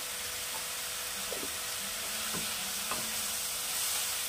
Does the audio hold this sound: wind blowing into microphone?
no